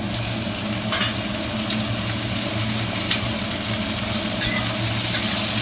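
Fried rice with a little soy sauce sizzles and fries in a wok, a steady loud crackling hiss throughout with occasional louder spits and stirring bursts.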